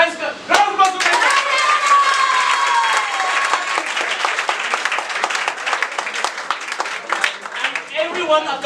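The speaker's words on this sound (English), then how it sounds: "Guys, round of applause for Priyanka." A room full of people applauds a woman at a felicitation celebration, dense clapping running the whole way through with voices and cheers mixed in beneath the hands.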